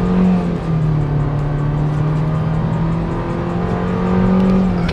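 A car being driven badly gives a loud, close engine drone holding a steady pitch, with slight rises as the throttle shifts.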